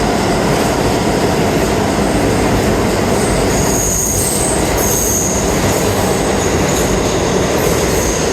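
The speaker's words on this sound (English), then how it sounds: "That's R211. Those are brand new trains" A brand-new R211 New York subway train pulls into the platform, its wheels squealing loudly over a steady rumbling roar of rail cars, close and continuous.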